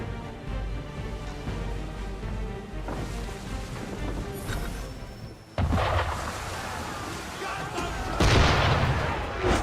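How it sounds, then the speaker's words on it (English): Gunfire aimed at a sailing ship in Assassin's Creed III: heavy booming cannon-like blasts and bursts of shots over a dense rumbling backdrop, growing louder toward the end. "Why is he shooting at us?"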